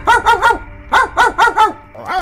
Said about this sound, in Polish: Chwilę później zaczął ujadać jak najprawdziwszy pies.